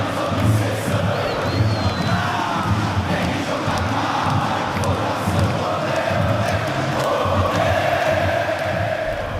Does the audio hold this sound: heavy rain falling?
no